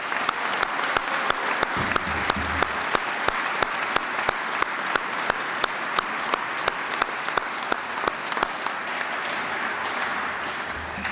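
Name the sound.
audience applause at hall of fame ceremony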